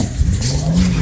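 A rally car at a summer cup round roars past close by, engine loud and rising in pitch, with tyre noise on the surface.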